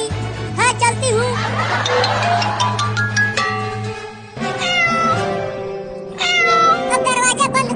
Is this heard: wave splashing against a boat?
no